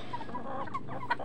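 Pet chickens clucking close by in a brief burst of short calls over a low background hum.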